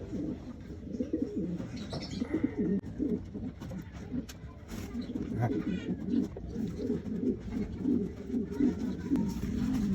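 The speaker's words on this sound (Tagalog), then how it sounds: "Nagliligawan na mga kalapatids." Pigeons coo repeatedly in a rhythmic, low, throaty courting pattern close by, a steady series of rolling calls with faint chirps and some quiet talking in the background.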